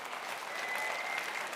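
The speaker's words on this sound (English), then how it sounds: "Come on, let's have one big round of applause for Jamal Edwards." An audience at a London creative event claps in a dense, even round of applause, a steady patter of many hands at moderate distance with no talking.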